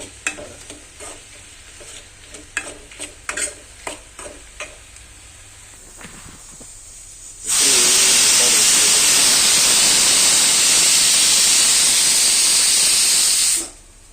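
Soft clinks and stirring sounds give way to a loud, steady jet of hissing steam from a pressure cooker whistle while cooking sambar, blasting for about six seconds, then cutting off abruptly.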